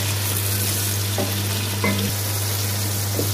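Masala with whole green chillies fries in a pan for an arvi chicken curry, a dense, steady sizzle filling the whole stretch, with a few soft stirring knocks.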